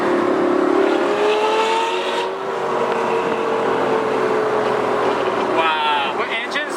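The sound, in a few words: straight piped Lamborghini Gallardo Superleggera engine driving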